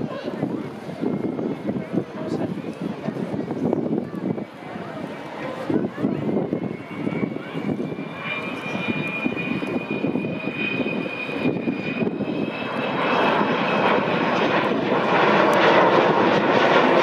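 The Avro Vulcan XH558 bomber flies at a Scottish airshow, its jet engines making a loud, sustained roar that swells and climbs to a howling whine. Someone talks over the engine noise throughout.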